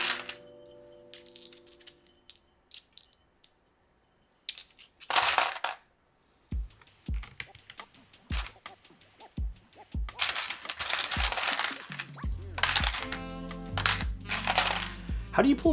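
Keycaps are pulled by hand off a mechanical keyboard, giving sparse, sharp plastic clicks and rattles. Quiet stretches separate them at first, then the clicks grow denser and busier toward the end, close and fairly loud.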